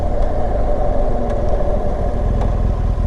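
A BMW Rallye motorcycle riding along a dirt road, its engine a steady, loud, close drone with wind and road rumble throughout and no pauses.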